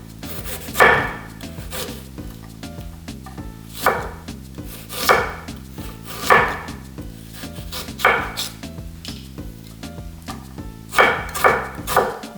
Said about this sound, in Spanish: Vamos a cortar la cebolla para empezar a armar los chilaquiles. La cortamos en julianas.